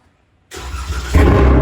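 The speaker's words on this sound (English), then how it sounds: "swear, that start sounds perfect every single time." A tuned car with a stage 2 tune and burble map fires up after a moment of silence, the engine catching with a loud bark and settling into a heavy, close rumble.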